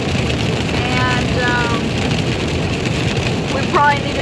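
Steady rain drums on the roof of a truck, a dense constant hiss that fills the cab from start to finish, with brief voice sounds showing faintly beneath it.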